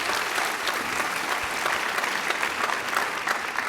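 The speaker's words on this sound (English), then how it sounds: "I'd love to give them a round of applause" A conference audience at an education talk on maker learning in schools claps in steady, dense applause that fills the room without pause for several seconds.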